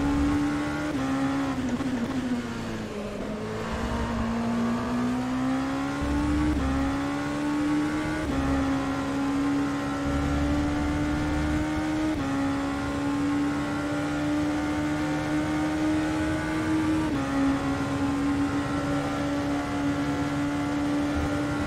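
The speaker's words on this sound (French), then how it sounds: "Le son de cette voiture qui est un peu feutré." A Ligier JS P217 race car engine in the sim racing game rFactor 2 gives a continuous, somewhat muffled drone. Its pitch dips and climbs slightly as the car eases off and accelerates, with no talking.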